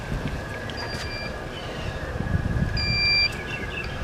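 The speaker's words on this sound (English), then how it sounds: "The beeping won't stop" An Intex hot tub showing error code E90 gives off a few thin electronic beeps over a low humming, rumbling background, the tones faint and intermittent.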